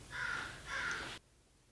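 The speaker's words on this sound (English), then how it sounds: "Apparently the birds would have something to say about that today." A crow caws twice in a row, each call drawn out and harsh, at moderate distance, before the sound drops to quiet background.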